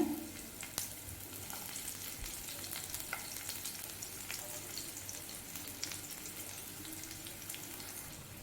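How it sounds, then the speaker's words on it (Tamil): Garlic and small shallots sauté in oil with mustard seeds, giving a quiet, steady sizzle with occasional utensil taps, with no voices throughout. "அந்த வெங்காயத்தோட கலர் மாறணும் அது வரைக்கும் வதக்கிக்கோங்க"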